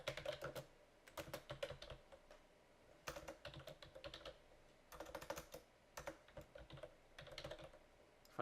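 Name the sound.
typing on a computer keyboard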